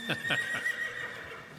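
A horse neighs twice in quick succession, then gives a softer trailing whinny in an arena at a horse trainer competition, close and clear over light background noise.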